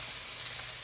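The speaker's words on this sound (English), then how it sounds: "now these veggies are going to be browning for another 2 minutes or so" Vegetables for lomo saltado sizzle in an oiled pan with a steady, close, hissing fry that holds evenly throughout the brief moment.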